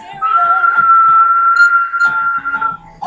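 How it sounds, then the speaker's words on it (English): A single long, steady whistle blast rings out clearly, close and loud, with small warbles at the start and end. "you can grab a whistle, right? And blow the whistle."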